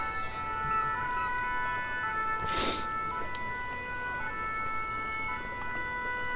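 Fire engine sirens at Les Sables d'Olonne sound a salute for a Vendée Globe sailor arriving in port, steady tonal wails heard from a distance under crowd and harbour noise, with a brief burst of noise partway through.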